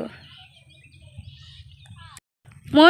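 A bird gives short chirping calls over a low rhythmic background hum, ending with a louder, close call.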